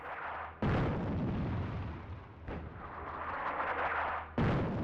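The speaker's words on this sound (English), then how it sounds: "Oh, this is an artillery regiment." Artillery fire in the North Africa wartime strategy game Attack at Dawn: three heavy booming blasts land about two seconds apart, with a dense rumbling battle roar filling the gaps between them.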